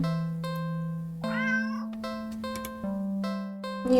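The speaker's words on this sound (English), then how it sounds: "do you hear the meows?" A black cat in a scary video game meows once in a rising and falling wail over sustained, droning game music with steady tonal notes.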